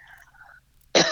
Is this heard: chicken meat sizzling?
no